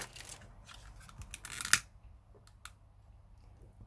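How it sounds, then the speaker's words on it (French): Scissors cut away excess fabric while a round scrapbook box is being made: a few light clicks and rustles, then one sharp, crisp snip close by, followed by quieter handling taps in a quiet room. "on va couper l'excédent de tissu"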